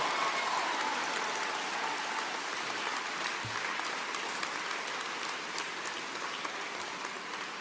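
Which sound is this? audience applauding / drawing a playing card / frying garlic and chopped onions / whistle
audience applauding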